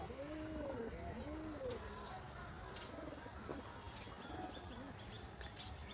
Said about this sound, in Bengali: দেখো কি সুন্দর একটা কবুতর